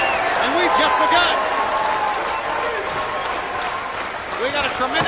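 Packed wrestling arena crowd at the UNO Lakefront for WCW Halloween Havoc 1993, cheering and applauding in a loud continuous roar with scattered shouts rising above it throughout.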